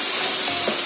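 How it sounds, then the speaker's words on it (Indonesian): Chili and shallot spice paste sizzles and hisses steadily in a hot pan, a brief, close, bright frying crackle with faint stirring beneath it. "Kita tumis sampai bau langunya dari si cabe, si bawang itu hilang ya."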